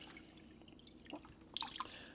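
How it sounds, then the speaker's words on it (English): Pieces of sockeye salmon drop into a container of clean water, giving faint scattered drips and small splashes in a quiet setting. "I'm going to quickly get these out now, and I'm dropping them into just some clean water."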